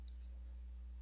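A pair of quick, faint mouse clicks while selecting a face in CAD measuring software, sounding close against a steady low electrical hum.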